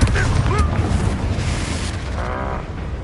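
A low rumbling boom from an explosive spell in a Harry Potter video game, with brief voice-like sounds over a sustained roar that fades gradually.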